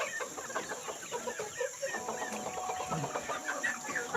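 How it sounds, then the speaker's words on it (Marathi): Free-range village chickens cluck and peck while eating spoiled tomatoes from the fields, with soft, scattered clucks and pecking continuing steadily at a modest distance. "त्या कोंबड्या टोमॅटोला किती आवडीने खात"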